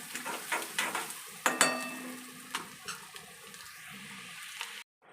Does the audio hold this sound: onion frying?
yes